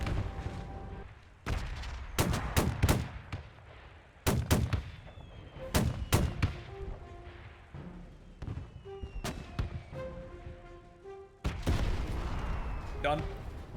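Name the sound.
mortar fire in the video game Men of War II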